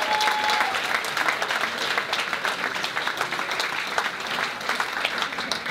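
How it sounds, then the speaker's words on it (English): Audience applause at a cancer charity fundraising event, steady dense clapping from a crowd filling the whole stretch at an even, loud level with no talking. "So come on, round of applause."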